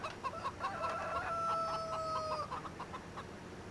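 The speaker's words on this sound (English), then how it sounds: "Chickens with a death wish." Chickens clucking in the video game Farming Simulator 17, a steady cluster of farmyard clucks with a drawn-out crow-like call running through the middle, moderately close with low background hum.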